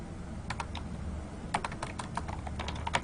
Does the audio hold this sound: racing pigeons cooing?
no